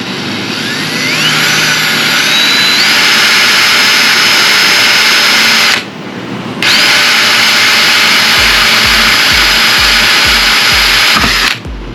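A power drill bores through the metal of a door for a screw, a loud high whining drone that cuts out briefly mid-way, then resumes with rhythmic low thumps as the bit pushes through.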